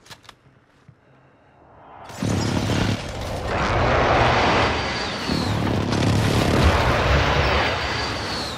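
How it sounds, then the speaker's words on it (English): A precision airstrike in Call of Duty: Modern Warfare begins with faint clicks, then a jet roar sweeps in loud and close, followed by sustained rumbling blasts that fill the rest of the moment. "friendly precision airstrike inbound"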